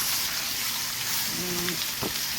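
A T-bone steak fries in a pot with a steady, loud hiss and sizzle, a brief faint tone rising out of the noise midway.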